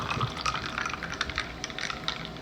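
Cold water pours into a container for mixing barley, a light trickling and splashing with small irregular drips, close and fairly quiet.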